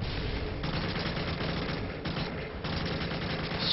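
Rapid bursts of gunfire in the video game Modern Warfare 3 form a dense, continuous barrage of shots that stays loud and steady throughout with no clear gaps.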